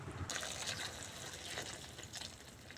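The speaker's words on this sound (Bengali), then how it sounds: "এখন দিয়ে দেবো পরিমাণ মতো জল।" Water poured into a soybean and potato curry in a pan, a soft continuous trickle and splash, fairly quiet and steady.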